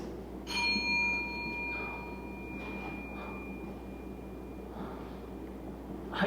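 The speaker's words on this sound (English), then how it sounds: "The bell invites me!" A single bell strike rings out as a stage effect in a theatre performance of Macbeth, a sharp onset followed by a long, faint decaying ring in a quiet room.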